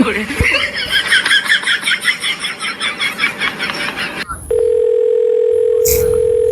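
A mobile phone call connects to a steady, unbroken ringback tone. It follows several seconds of lively talk and chuckling, then runs alone and loud, with a brief click near the end.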